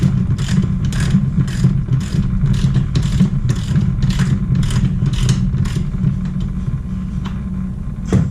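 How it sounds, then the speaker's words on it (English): A ratchet fitted with a 1-1/16 inch socket loosens the rear axle nut of a 2008 Triumph 675, making a run of sharp, rapid clicking strokes over a steady low background rumble. "I'm using a 1-inch 1/16 socket,"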